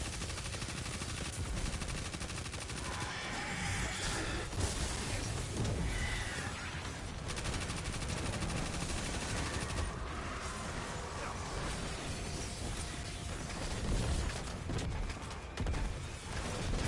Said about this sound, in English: Oh, I hear a tractor cannon.